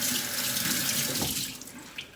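Water runs steadily from a kitchen tap as a hand is rinsed under it, a loud close rush that thins out and ends with a few drips and splashes.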